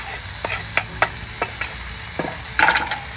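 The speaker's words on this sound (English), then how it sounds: "Now that the rice has nicely been toasted, we're gonna add our mushrooms to it." Mushrooms sizzling as they go into a pan of toasted rice for chanterelle mushroom risotto, a close, steady frying hiss with several quick stirring scrapes and a louder burst near the end.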